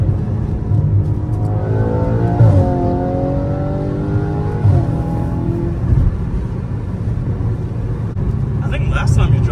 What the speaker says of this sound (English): Ain't getting that sound out of a new car. Nah, not at all. Nothing beats a V8,